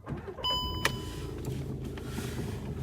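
A 2017 Skoda Octavia A7 starting up: a few electronic chime tones and a sharp click, then a steady low engine hum that continues close by to the end.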